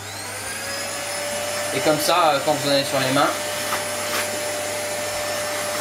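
Vacuum cleaner running continuously nearby to pick up polystyrene bits, a steady motor whine with a high tone throughout while a person talks briefly over it.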